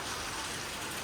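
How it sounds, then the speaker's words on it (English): Heavy rain with big drops pours down steadily in Kampong Cham, Cambodia, a dense, even hiss that fills the short moment with no voices over it. "The drops of rain are huge."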